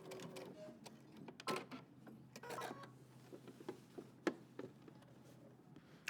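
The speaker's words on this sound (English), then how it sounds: "And now we're going to sew through the center front." A sewing machine stitches through the center front of a jeans jacket, giving quiet, uneven runs of mechanical clatter with short pauses between bursts.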